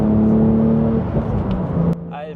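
A Porsche 911 Sport Classic with a manual gearbox gives a loud, steady engine drone with rich harmonics, then cuts off abruptly near the end.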